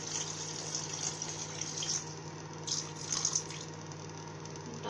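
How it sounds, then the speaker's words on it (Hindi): About a glass of water poured into a cooking pot of lauki and Punjabi vadi sabzi, a steady close splashing pour with a few louder gushes toward the end, no talking. "फिर मैं एक ग्लास के करीब पानी डाल देती हूँ।"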